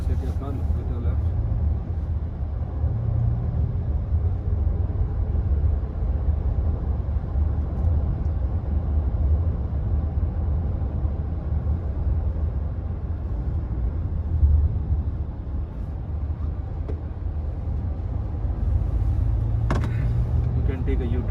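Volkswagen Touareg 3.0-litre V6 turbocharged petrol SUV cruising in sports mode, a steady low engine and road rumble filling the cabin throughout, with people talking over it.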